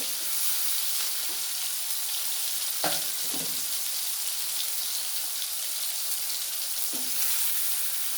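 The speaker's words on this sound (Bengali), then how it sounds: "দিয়ে ভালো করে আমি কষিয়ে নেব" Chopped tomato frying in a pan for an eggplant and pabda fish curry, a steady close hiss of sizzling oil with a few soft stirring knocks.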